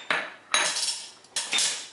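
Metal spoons clink and scrape against a dish while spices are measured for a chermoula sauce for baked fish. There are three quick, close metallic scrapes, each ringing briefly before fading.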